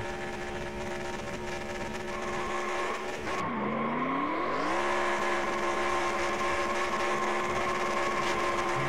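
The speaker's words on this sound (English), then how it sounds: "Burning down the tires on that number 3." Race car of the number 3 team doing burnouts and spinning out near the start-finish line, a loud continuous engine roar with screeching tire squeal that dips and swells midway, no talk.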